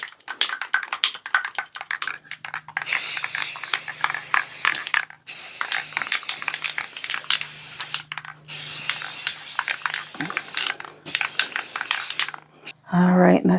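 Rapid mechanical clicking and ratcheting as a clock mechanism is fitted into a large farmhouse-style wall clock, in several bursts separated by short pauses, close up.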